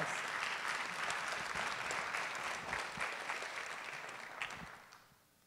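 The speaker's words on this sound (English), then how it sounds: "We need to give all of our nominees and recipients a round of applause." An audience at a youth awards ceremony applauds the nominees and recipients with dense, steady clapping that holds for several seconds, then gradually fades out at the end.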